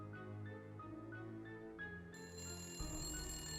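A telephone rings in a Nancy Drew haunted mansion game, a series of bright, bell-like tones in quick succession over a soft background score, with no voices.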